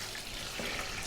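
Water for cooking chicken biryani rice pours out as a soft, continuous splashing rush, faint and steady, with no voices.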